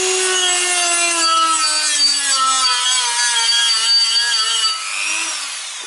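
Dremel multitool sanding a car brake disc, a loud steady high-pitched whine with grinding rasp, the motor pitch wavering slightly and dropping near the end as it winds down; no talking.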